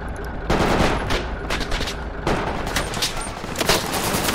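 Gunfire in the video game Project Reality, dense bursts of automatic rifle fire and rapid shots, loud and close, with overlapping volleys continuing throughout.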